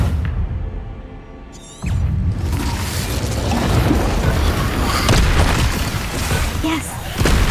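An Incendio fire spell cast in the Hogwarts Legacy video game, a sudden whooshing burst of flame that roars on as a dense, sustained rush of fire with a low rumble; a voice speaks over it.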